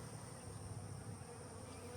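Southern Italian honeybees confined in a shipping package hum in a steady, dense drone that holds without pause throughout, a continuous mass of buzzing wings at close range.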